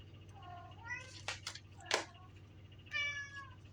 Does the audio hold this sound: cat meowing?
yes